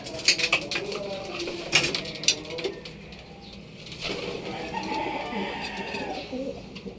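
Pigeons coo on Jones Bridge in Binondo, Manila, soft throaty calls mixed with wing flutters and outdoor bustle, while someone talks nearby.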